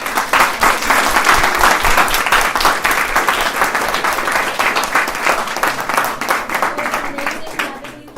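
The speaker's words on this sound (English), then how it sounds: "Please give a big round of applause." Audience at a university conversation event breaks into a loud, sustained round of applause, dense clapping holding steady for several seconds before tapering slightly at the end.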